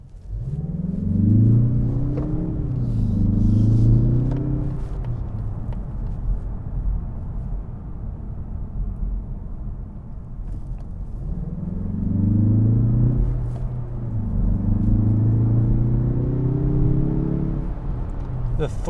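A 2021 Mazda 3 turbo sedan engine pulls hard under acceleration, its low rumbling drone rising in pitch in two separate surges with a quieter cruising stretch between them, heard from inside the car.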